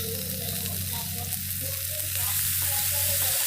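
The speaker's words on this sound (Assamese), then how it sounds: "আলুখিনি প্ৰথমতে অকমান তেল লগাই ল'ম ভাজি ল'ম" Potatoes sizzle in hot oil in a pan with onion and turmeric, a steady close-up crackle that grows slightly louder, with a low hum beneath.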